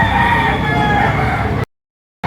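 A rooster crows at an outdoor poultry market in Padre Garcia, Batangas, on a rainy day. The loud, sustained crowing sits over dense crowd and vehicle noise before cutting off abruptly.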